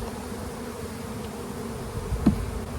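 Honeybees humming in an open hive during a hands-on beekeeping class, a faint, steady low buzz running throughout with a slightly louder swell near the end.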